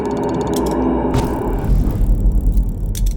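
Mechanical clicks and a whooshing burst from an air-pressure disinfectant device in Pathologic 3, a short ratcheting charge followed by a louder rushing release over a low rumbling backdrop, with no talking.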